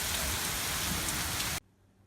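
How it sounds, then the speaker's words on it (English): Hail pours down outside, a loud dense hiss of countless pellets striking surfaces that cuts off abruptly into near silence. "And I look outside and it's hailing like a big dog."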